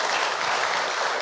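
Studio audience at a German political talk show bursts into steady, dense applause, loud and close, filling the whole moment without pause.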